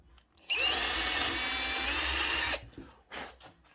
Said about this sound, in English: I'm going to drill a pilot hole first.